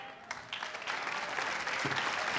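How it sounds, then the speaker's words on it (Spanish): Studio audience applause on a Colombian comedy talk show, a dense burst of many hands that swells quickly and holds loud and steady to the end. "un aplauso para él"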